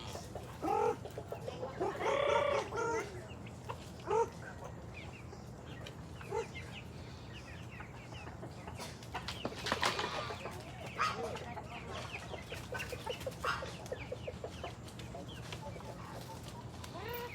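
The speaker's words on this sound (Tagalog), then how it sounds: "papakain na po tayo ng ating mga sisiw, chick" Young chicks on a Filipino poultry setup cluck and peep steadily during their morning feeding, with occasional louder calls rising over a busy, continuous flock chatter close by.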